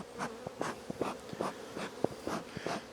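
Honey bees buzz in irregular bursts while a strong hive is opened for its first spring inspection, with soft knocks and scrapes of frames mixed in close to the microphone.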